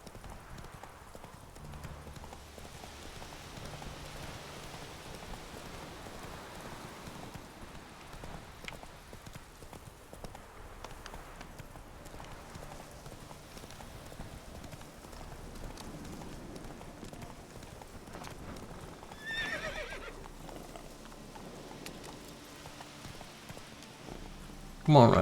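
Roach the horse clip-clops at a steady gallop through the Witcher 3 game world, hooves drumming rhythmically at moderate volume, with a short neigh toward the end and a voice talking over it.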